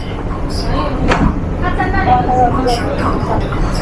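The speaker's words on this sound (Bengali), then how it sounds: "এটা হচ্ছে এখানকার ট্রেন, দেখুন স্কাই ট্রেন," Inside a suspended monorail sky train in Wuhan, China, a steady rumbling ride noise with faint mechanical whines carries on under someone speaking throughout.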